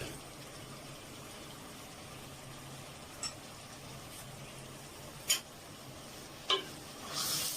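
Chicken and chickpea curry with red chili powder and salt is stirred in a pot, a soft steady sizzle broken by a few sharp spoon knocks against the pan.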